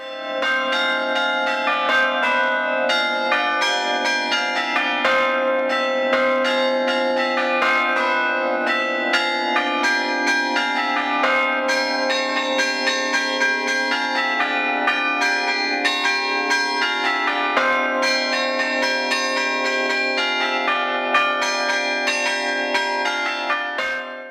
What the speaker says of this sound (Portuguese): tirava os toques dos sinos que ele fazia e tentei aproximar o máximo possível